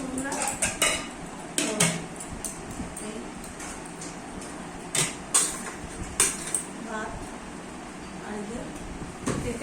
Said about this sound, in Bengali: নামিয়ে এই ভাত বাড়ছি বন্ধুরা।